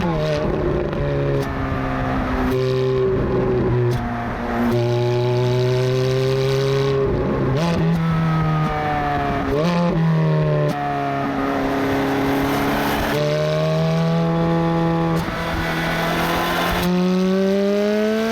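A 2007 Ferrari F430 Spider's engine revs and accelerates on the road, rising in pitch through several gears with short dips at each shift, loud and sustained from inside or near the open-top car.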